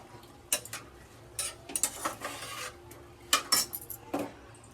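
A spoon stirs potato, cauliflower and carrot in a pan, producing scattered light clinks and scrapes against the metal in irregular bursts, fairly quiet and close, with no voices.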